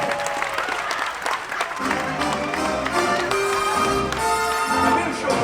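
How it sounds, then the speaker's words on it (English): Audience applause fills a theme-park special effects show for a volunteer leaving the stage, dense clapping mixed with loud music and crowd noise. "Let's hear a round of applause for our volunteer."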